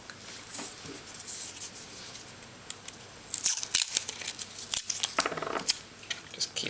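Adhesive tape crackles and rustles as it is handled and wrapped around electrical wiring, soft crinkling at first, then louder sticky tearing and rubbing bursts close by.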